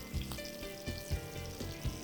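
Catfish frying in a pan, a steady soft sizzle with a few low thumps and knocks at a slow, uneven rhythm, close and fairly quiet, no voices.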